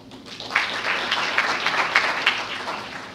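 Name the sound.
audience applause for a judge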